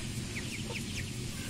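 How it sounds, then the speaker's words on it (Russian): Hens and young chicks clucking together in a poultry yard, several short chirps and clucks scattered over a steady low background murmur, no talking. "Большие куры пошли на ту территорию, где раньше они не могли быть."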